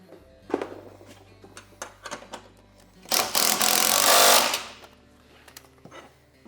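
Power tool on a Lynx snowmobile skid, driving bolts in short bursts with a longer sustained run near the middle, close and fairly loud with clinks of hardware between, no talking.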